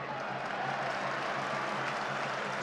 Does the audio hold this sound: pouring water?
no